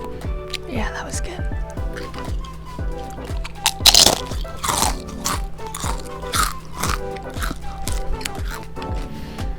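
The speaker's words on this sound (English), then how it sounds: "Okay, I want to munch on some Doritos." Doritos chips crunched and chewed close up, a steady run of sharp bites and crisp crackles repeating in a chewing rhythm, with soft speech in between.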